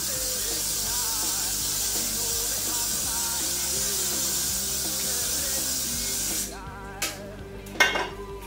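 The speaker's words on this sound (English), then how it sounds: "you take some more hairspray, you want it to hold" Hairspray hisses from a can onto styled goth hair in one long, steady spray, followed by a few short, sharp bursts.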